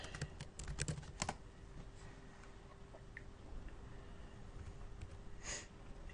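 A search is typed on a computer keyboard in quick clustered keystrokes at the start, followed by a few isolated clicks and faint breathing against a quiet room hum.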